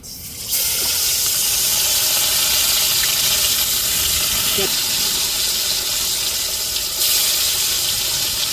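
Fish slipped into a pot of simmering fish curry, a steady loud hiss and bubbling sizzle that holds throughout after a brief quieter start, with faint speech nearby.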